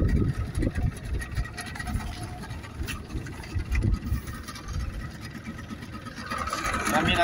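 A Yamaha 40 hp outboard boat engine runs steadily on a canal, a continuous mid-pitched drone that holds throughout and rises slightly near the end, with no speech over it.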